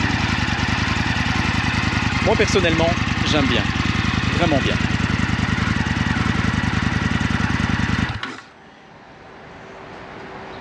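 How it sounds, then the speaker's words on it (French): Indian FTR 1200 motorcycle with its 1203 cc engine running steadily nearby, a deep hollow throb that continues under brief talk before cutting off abruptly near the end. "un son beaucoup plus sourd et plus caverneux qui est issu de ce moteur de 1203 cm3"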